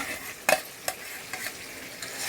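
Eggs going into a pan of cooked spiced masala and frying, a soft steady sizzle broken by a few sharp scraping stirs and clinks of a utensil, fairly quiet and with no talking.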